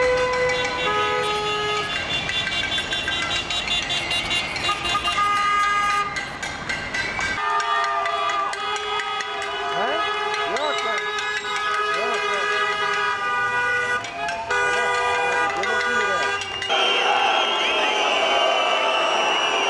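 Many car horns honk together during a street protest at a traffic-lit junction, with overlapping toots and steady blasts layered into a loud, continuous chorus, under a voice and some music-like tones.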